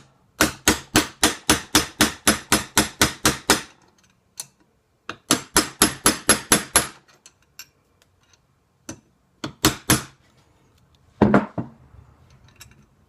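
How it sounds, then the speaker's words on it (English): Hammer striking a cold chisel to bend a metal barrel lug held in a vise, a quick run of about a dozen even sharp metallic taps, then a pause and more runs and scattered single blows, close and clear. "And I just get like a cold chisel. I don't want to hit it hard and break the metal."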